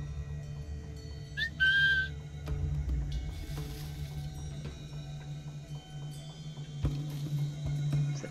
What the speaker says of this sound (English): Keep whistling.